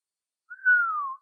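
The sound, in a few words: man whistling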